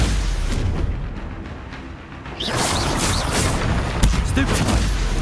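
Spellcasting in Hogwarts Legacy with the Stupefy charm, a series of booming blasts and crackling impacts over a few seconds, loud and dense, with a sharp hit near the end amid ongoing game noise.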